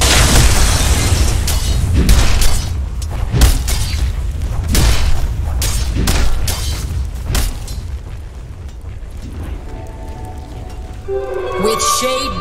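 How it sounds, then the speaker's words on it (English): A tower under attack in the video game Dota 2, a string of heavy booming impacts and bursts at a loud, dense level, ending with game interface chimes over the last seconds. "Radiant's top tower is under attack."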